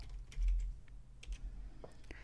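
Quiet typing on a computer keyboard while entering a value into an Excel 2019 spreadsheet, a few scattered soft key clicks with low background hum.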